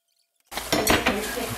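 Glazed chicken is cut up in a pan while its soy-based sauce reduces. After brief silence comes a short burst of close metallic clinking and scraping against the pan.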